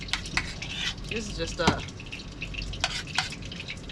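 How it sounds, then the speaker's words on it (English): Parmesan-crusted fish fries in a pan with a steady sizzle and crackle, broken by brief clinks and stirring noises, while a person talks briefly over the cooking. "while that's frying up, I'll dish up my vegetables."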